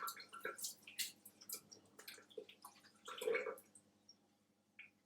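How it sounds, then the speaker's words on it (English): Tap water running over dip containers in a home kitchen, an irregular splashing and dripping patter at low level, close by, with no talk. "you might want to run some water over it"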